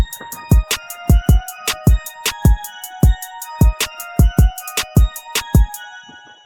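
A bright synth melody plays over a steady beat of punchy kick and snare hits, loud and regular throughout.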